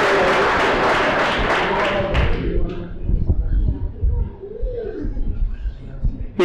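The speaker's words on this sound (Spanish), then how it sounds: "Pero está claro que se merece un fuerte aplauso." Applause at an awards gala for a homebrewer beer competition, a loud burst of clapping that dies away after about two and a half seconds, followed by scattered thumps and muffled voices.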